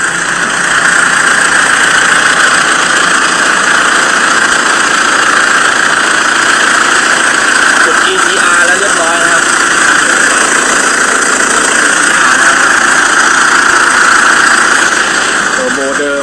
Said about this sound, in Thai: ฟังเสียงท่อกันหน่อยครับ ประมาณนี้เลยครับ